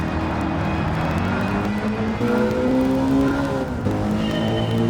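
A race car in an American Clubman Cup racing game at Laguna Seca, with a loud engine rising and falling through the gears. Tires squeal and skid through the corners with no break.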